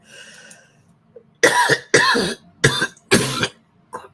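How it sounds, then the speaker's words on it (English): A burst of four harsh coughs in quick succession, loud and close, preceded by faint background murmur and followed by a small trailing cough. "Why did I start coughing?"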